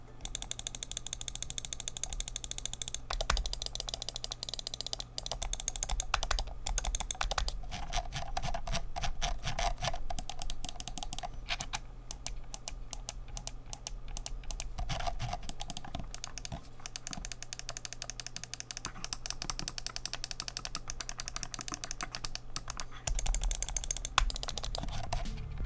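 Repeated clicking from a Fnatic Clutch 2 wired gaming mouse, its buttons pressed in quick runs and short bursts for nearly half a minute, close and crisp with no talking.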